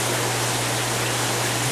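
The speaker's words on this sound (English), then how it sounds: "You can see the water trickling very, very beautifully." Water trickles steadily in a GIO 140 indoor fountain in a showroom, giving a constant even splashing wash that stays close and uninterrupted throughout, with a low steady hum beneath it.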